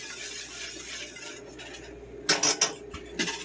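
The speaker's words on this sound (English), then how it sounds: "I'm going to go ahead and just stir this" A utensil stirs sodium citrate into Alfredo sauce in a pot, a soft scraping swirl over steady kitchen background that is followed by a few sharper metallic clinks against the pot.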